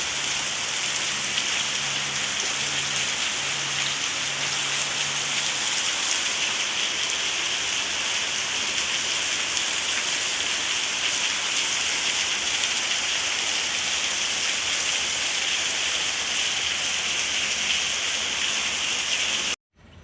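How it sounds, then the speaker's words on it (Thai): Heavy rain pours onto a vegetable garden of chili and coriander plants in a dense, continuous hiss that stays loud and steady throughout, with a faint low hum in the early seconds. "หลังจากที่ฝนตก ลงมาอย่างหนัก"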